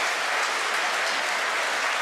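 Stadium crowd at an Arsenal legends versus AC Milan legends match cheering and applauding as a substitute comes on, a dense steady roar of clapping and cheers filling the whole stretch.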